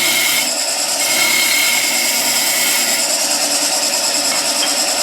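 A skew chisel roughs out a wooden spindle on a lathe, giving a continuous hissing, whirring cut with steady loudness and a slight shift in tone partway through.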